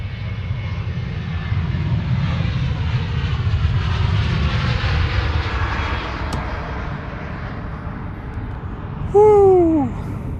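A jet aircraft taking off at Manchester Airport roars as a broad, steady rumble that slowly swells and fades across the stretch, with a brief whistle-like chirp near the end.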